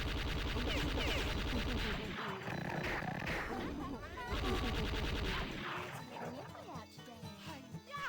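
AK rifle firing in Redneck Rampage Rides Again, rapid bursts of gunfire over a dense, loud game soundtrack and effects, continuing through most of the clip.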